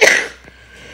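One sharp, explosive cough bursts out up close, then fades into quiet.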